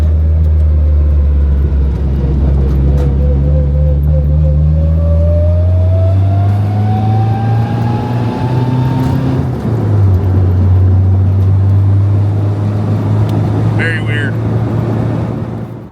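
Interior sound of a Nissan 240SX driving with strange noises, a loud steady engine drone with rising whine as it accelerates, then a shift and continued low hum.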